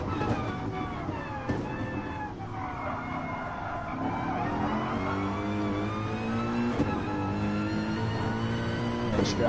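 Onboard a Mercedes GR3 race car in Gran Turismo at Fuji: a loud, continuous engine note rising and dropping through gear changes, near and steady for the full length, with a commentator talking over it.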